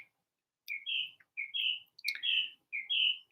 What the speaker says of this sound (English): If you feel mocked, that's the mockingbird outside.